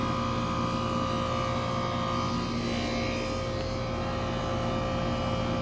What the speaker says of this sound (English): that sound is probably the reciprocating compressor running as well.